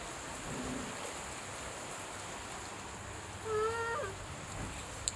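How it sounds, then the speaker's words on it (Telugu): Rain falling as a soft, even hiss that continues the whole time, faint and distant, with a brief higher tonal sound partway through. "వర్షం పడుతుంది."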